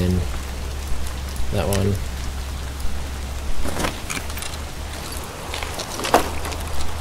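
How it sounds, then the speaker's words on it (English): Rain falling in the video game Escape from Tarkov, a steady patter with scattered sharper drops and a low rumbling bed, while someone speaks briefly. "Rain always sounds like footsteps."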